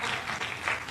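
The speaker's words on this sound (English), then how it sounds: "Give a round of applause." Steady applause from a crowd, a dense wash of clapping filling the whole moment without a break.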